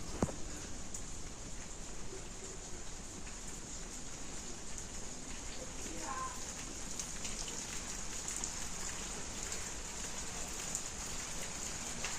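Steady rain patters on a surface throughout, a dense, even hiss with scattered drops, constant and close, with no voices.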